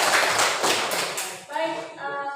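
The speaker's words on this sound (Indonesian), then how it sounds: "Tepuk tangan buat kelompok." Brief burst of classroom clapping for a student group, several quick claps at close range that give way to a voice talking near the end.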